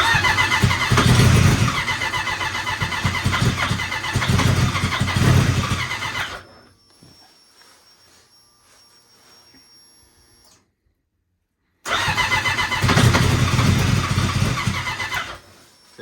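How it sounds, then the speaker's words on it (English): Twincharged Ski-Doo-style Apex snowmobile engine cranking and catching, running rough and loud for several seconds, cutting out into near silence with a faint whine, then firing and revving again close by. "I am trying to get the sled started. It's been popping"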